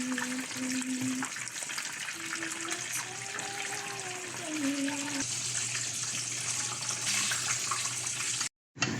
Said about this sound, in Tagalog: habang nagpiprito ako ng talong